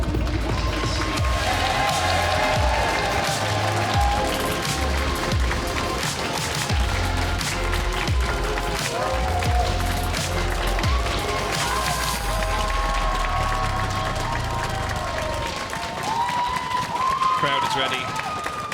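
A live esports arena crowd at an LEC match intro applauds and cheers as one continuous loud roar, with loud music playing and commentators talking over it.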